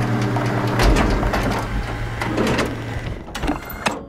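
A pilot seat activates in the video game SOMA with a steady mechanical whir and hum. It ends in a few sharp clanks and clicks, with no talk over it.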